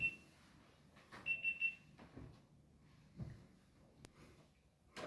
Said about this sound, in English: That sound is Stan's GoPro